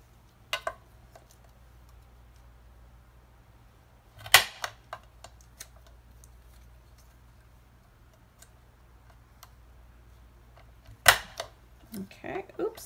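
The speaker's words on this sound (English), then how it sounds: "I'm going to round the corners with my corner punch" A corner punch rounding the corners of paper pockets, a few sharp isolated clicks and snaps spaced apart over quiet background, with light paper rustling near the end.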